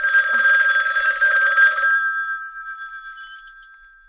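A telephone rings loudly in a Korean film set in the 1980s, one bright two-second burst of ringing that leaves a fading tone afterward.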